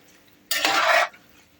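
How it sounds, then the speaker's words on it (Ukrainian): Pork fat rendering into lard gets one half-second stir in the pan, a close scraping swish against the metal, with quiet simmering before and after. "добре перемішую. І все, і далі залишаю топитися"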